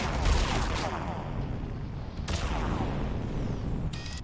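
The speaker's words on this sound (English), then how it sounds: "Can't I just shoot some of these JPEGs down?" Sustained gunfire and booming combat noise in Mass Effect 3, dense and loud throughout with a sharp burst midway and mechanical clatter near the end, a voice faintly underneath.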